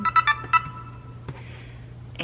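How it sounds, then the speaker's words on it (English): A mobile phone ringtone of a few short, bright beeping notes at the start, moderately loud indoors, followed by quieter tones over a low hum. "And that's my phone."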